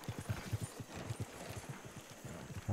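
Horse hooves clip-clop in a steady rhythmic gait in the Red Dead Redemption 2 game, close and fairly loud, running alone through the clip.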